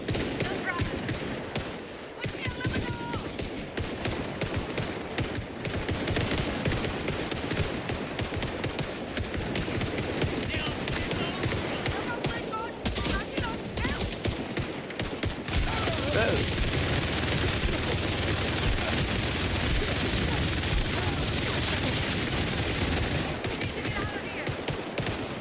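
Dense gunfire from Indiana Jones and the Great Circle, continuous bursts and scattered shots at a steady loud level through the whole stretch, with indistinct voices underneath.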